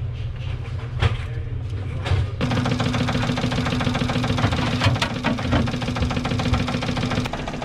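Air pump on a Stoelting U431 ice cream machine kicks on after a few clicks and keeps running, giving a steady close mechanical hum with rapid chattering and occasional sharp ticks.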